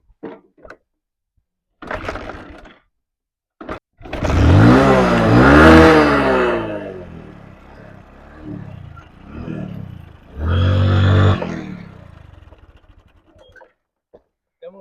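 A motorbike engine starts and revs up loudly, settles to a rumbling idle, then revs again before cutting off, with a few clicks around it.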